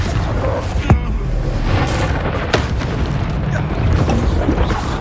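A Confringo fire spell bursting in Hogwarts Legacy, with loud booming explosions and crackling impacts over a continuous rumbling battle, close and heavy, with a character shouting spell names.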